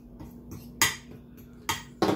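Whisk or spoon mixing flour, seasoning and salt in a bowl, soft scraping with three sharp metallic clinks against the bowl, close and alone.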